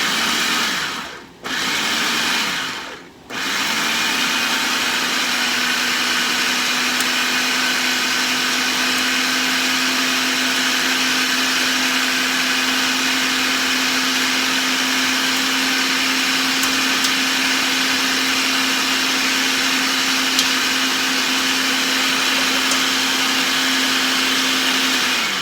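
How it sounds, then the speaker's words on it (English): A food processor chops chili ingredients for a picky eaters' chili, a loud close motor whir starting in two short bursts, then running as one steady, continuous drone with no talking. "use this food processor. And I'm going to do the deed."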